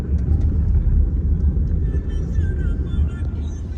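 Vehicles crawling along a jammed, crowded road in Akkalkot, a steady low engine rumble close by that fills the whole moment, with faint voices mixed in.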